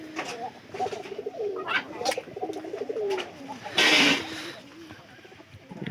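Pigeons coo in a loft, with soft repeated throaty calls from birds nearby, a burst of wing flutter or rustle partway through, and low background noise beneath.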